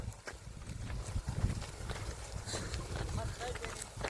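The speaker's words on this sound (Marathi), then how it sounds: "चालते चालते सांगा चालते बैल एक नंबर बैल चालते" Muffled hoof clops land unevenly under a busy wash of voices and outdoor noise, a young bullock plodding along nearby while being trained for bullock-cart racing.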